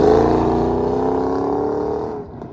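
Car launching hard on street tires during a drag-style test run with a BMR pan hard bar fitted, engine roaring loud and steady before easing off near the end.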